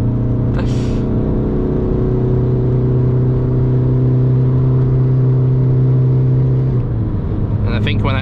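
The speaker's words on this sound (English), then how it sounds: "when I upshift to the fifth gear, the RPMs will start dropping" An underpowered manual car engine climbs steadily in pitch as it accelerates, then the note drops sharply with an upshift near the end, loud and close from inside the cabin, with a brief click early on.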